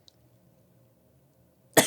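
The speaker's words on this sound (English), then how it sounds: "Cough break." A single sharp cough bursts out at the end after near silence, close and loud, preceded only by a faint click and low background hum.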